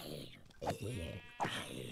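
Sheep in the Minecraft video game bleat twice in short wavering calls, faint and mixed under a player talking.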